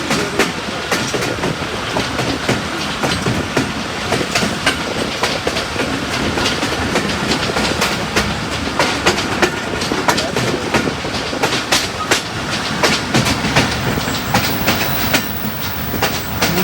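Chenab Express passenger train running on rails between Sargodha and Mandi Bahauddin, heard from inside: a continuous loud rumble with steady clickety-clack of wheels over rail joints throughout.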